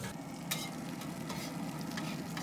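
Strips of bacon flattened under a bacon press fry on a Recteq smoke stone griddle, giving a steady, close hiss of sizzling fat with a few soft scrape clicks and no voices.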